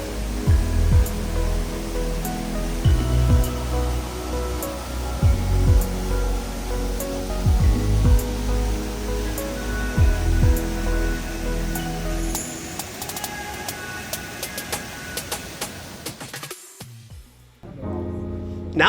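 Waterfalls pour down 1,000-foot cliffs in the Bernese Oberland, Switzerland, giving a continuous distant rushing hiss with faint clinks over it. Near the end the sound thins and shifts.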